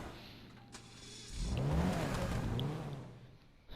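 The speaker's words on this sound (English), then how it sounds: "Oh, so the engine also sounds a little bit different." Vapid Retinue MKII engine in GTA Online, quiet at first, then revving up into a loud surge that holds and fades away toward the end.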